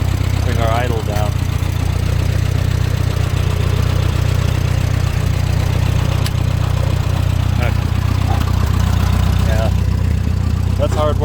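A Farmall M tractor engine idles steadily and loudly up close with a deep, even low rumble throughout, while someone talks briefly over it in a field of hard soil.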